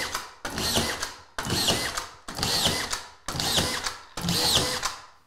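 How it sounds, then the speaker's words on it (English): A DeWalt collated drywall screw gun drives screws into drywall in five loud, evenly spaced bursts of motor whir about a second apart, each ending abruptly, with no talking. "So let's put some screws into this drywall."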